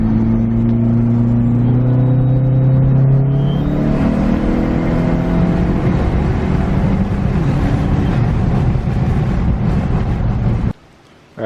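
A PT Cruiser GT accelerates steadily from inside, with the engine tone rising through gears, plus road and wind noise that builds before the sound cuts out abruptly near the end.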